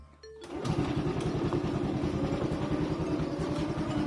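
A Honda Wave 110i motorcycle with a freshly rebored cylinder and new piston idles loud and close after a quick start, its single-cylinder engine thumping in a steady, even putter throughout.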